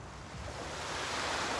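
Ocean surf rolls onto a beach in a continuous, rushing wash that swells slightly louder toward the end, with some wind noise and no voices.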